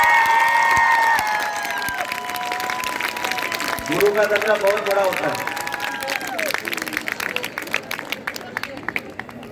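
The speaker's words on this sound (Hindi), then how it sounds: "सारा पंडाल अपने टीचर्स के लिए तालियां बजाए।" A crowd under a large event tent applauds its teachers at a stage performance, a broad wash of clapping and some cheering that runs under someone speaking loudly over a microphone with a musical tone early on.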